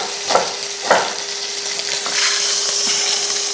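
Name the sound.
lamb shank searing in a pan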